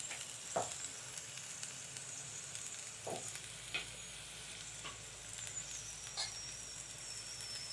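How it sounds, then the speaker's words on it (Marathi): Potato slices coated in semolina sizzle steadily as they fry in a pan, with a constant crackling hiss and a few brighter pops standing out. "आता हे आपण व्यवस्थित अजून पाच मिनटं फ्राय होऊन देऊ"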